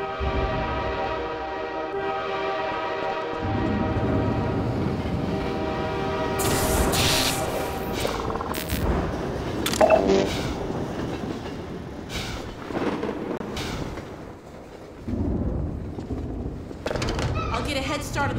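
Train in Half-Life 2 Episode 1, rumbling rail noise with rattling clatter and metallic screeches, loud and near for the whole stretch, with a voice heard at times over it.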